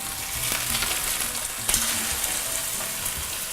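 Chipotle chicken sears in a one-skillet dinner, a steady loud sizzle and crackle of frying with occasional sharper pops and a brief stirring scrape, no voices.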